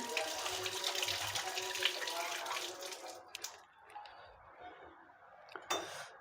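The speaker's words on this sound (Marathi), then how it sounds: "कढीपत्त्याची सुद्धा धुवून घेते मी आधी कढीपत्त्याची पाने" Curry leaves are rinsed under a running kitchen tap, with a close, steady splash of flowing water that thins out and turns into sporadic splashes and drips near the end.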